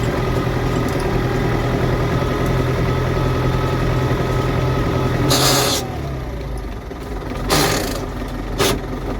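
Tractor engine idling with a steady low rumble and mild vibration, running continuously and close by, with a few brief sharper noises near the end.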